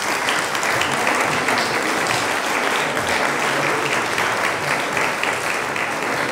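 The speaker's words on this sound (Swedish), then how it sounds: "Men varma applåd" Warm audience applause after a talk on religion and integration, a steady, dense clapping that fills the room for several seconds without a break.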